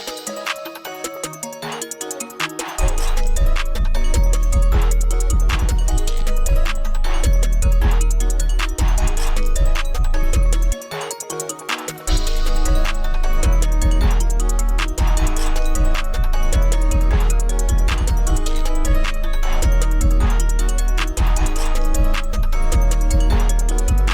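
Upbeat, chill and goofy dark plugg beat, loud and continuous, with heavy bass and drums dropping out briefly near the start and again around the middle before kicking back in.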